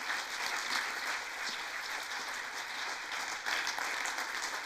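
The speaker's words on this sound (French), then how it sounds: "Je vous demande d'applaudir Augustin Trapenard." Faint, distant audience applause fills a French cultural broadcast, a sustained patter of many hands clapping at a steady level.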